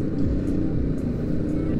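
Engine drone of a BMW G310R motorcycle leaning through a curve, a steady close rumble with wind noise, brief and continuous without speech.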